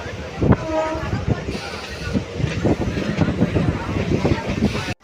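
A crowded Chennai local train rolls along on a Sunday, with a steady rhythmic clatter of wheels and carriages and the murmur of passengers' voices throughout.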